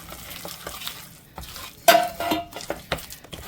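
A spoon stirs loofah bread batter in a bowl to work in the remaining dry ingredients. Soft, irregular scrapes and thick wet squelches come close by, with one sharper clack against the bowl partway through.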